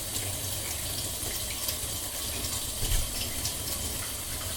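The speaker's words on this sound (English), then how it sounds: "and then you give it a good rinse." Tap water runs in a steady gush as juggling balls are rinsed clean of toothpaste, a continuous close splashing wash with faint bumps and no voices.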